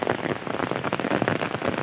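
Heavy rain pouring outdoors during traditional fishing, a dense, loud, steady hiss of drops drumming on surfaces, continuous with no gaps and no voices.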